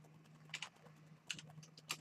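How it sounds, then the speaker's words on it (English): Typing on a computer keyboard, heard as a few short, faint bursts of key taps spaced about half a second apart over a low steady hum, with no talking. "let me just go off here and type in brick"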